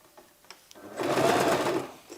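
A sewing machine stitching fabric for a little girl's dress: a quiet pause with faint clicks, then a single close, steady burst of rapid mechanical whirring lasting about a second.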